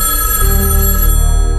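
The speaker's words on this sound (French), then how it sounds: "Le téléphone a sonné." A telephone bell rings loudly and continuously, a sustained electronic ring with no voices over it.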